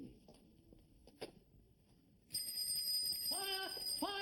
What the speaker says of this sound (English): That was a bicycle bell.